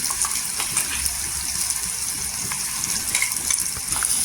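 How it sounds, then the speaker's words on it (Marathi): Coarse red chilli thecha fries in hot oil with a dense, close sizzle and crackle, steady throughout and with no voices. "इथे पहा, तेल असं छान गरम झाला पाहिजे आणि तेलावर आहे छान असं फ्राय करून घ्यायचा"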